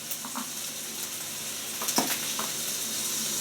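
Bacon fries and starts to burn in a pan, a steady close sizzle with a few small pops and stirring clicks, with no voices over it.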